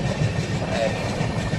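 A train rolls over a bridge in Kerala with a steady rumble and a rhythmic clatter of wheels on rails, heard fairly close and continuous throughout.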